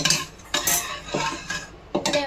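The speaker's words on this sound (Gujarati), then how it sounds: "અને હવે આપણે સરસ મજાનું આમાં હલાવી નાખ્યું." A metal spoon stirs dal with spices in a cooking pot, giving repeated scraping and clinking strokes against the pot at an uneven rhythm, close and clear without talk.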